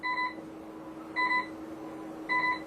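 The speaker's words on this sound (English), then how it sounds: "Alarms will start going off on the bridge." Bridge alarms on a ship during a full blackout beep in three short electronic bursts at regular intervals, clear and fairly close, with no talking.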